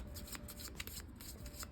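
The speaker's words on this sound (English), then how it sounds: "So what you do is you shuffle." A deck of tarot cards being shuffled by hand, a steady run of close, crisp riffling and flicking with no talk.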